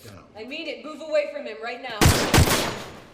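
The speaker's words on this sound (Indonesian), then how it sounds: "Alejandro langsung menembak ke arah rompi milik Cat" Two sharp, loud gunshots from the crime thriller Sicario, fired by a character at another's vest, burst out in quick succession after a stretch of speech and ring out into a broad noisy tail.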